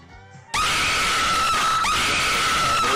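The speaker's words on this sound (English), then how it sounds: "what's with the scream? That was very loud." A loud, shrill human scream erupts suddenly after a short stretch of quieter background sound, then holds steady and piercing for about two and a half seconds during a furry-themed game show.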